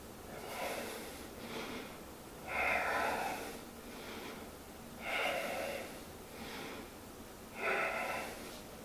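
Soft, close breathing during a back-strengthening yoga exercise, with three clear breath cycles coming at an even pace and lighter breaths in between, quiet and without speech.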